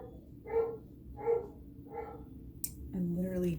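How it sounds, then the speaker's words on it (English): A dog barks three times at an even pace, the barks soft and somewhat muffled, before a person begins talking. "I literally don't know what my dog is barking at right now."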